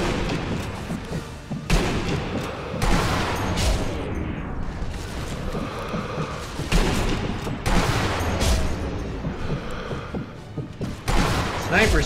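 Enemy sniper rifle shots and gunfire in Sniper Elite 2 co-op, several loud sharp cracks spaced a few seconds apart amid a dense battle din, with voices talking faintly underneath.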